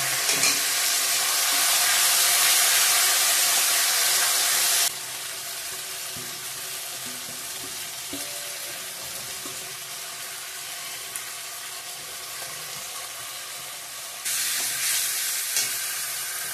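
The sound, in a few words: marinated chicken frying in a pan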